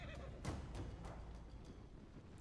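A horse neighs in the Assassin's Creed Origins video game while it burns, a brief whinny followed by a few sharp bursts over constant low game ambience, moderately loud.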